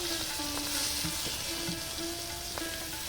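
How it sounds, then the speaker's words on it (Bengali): Rohu fish pieces sizzle and fry in hot oil in a pan, a continuous crackling hiss with occasional stirring scrapes, close and fairly quiet. "মাছগুলো ভাজা হয়ে গেছে, তুলে নিচ্ছি।"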